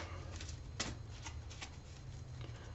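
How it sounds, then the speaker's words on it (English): Soft, rapid riffling of an oracle card deck being shuffled, a few quick bursts in a quiet room, close and faint. "I am going to shuffle and deal you an Angel Oracle card"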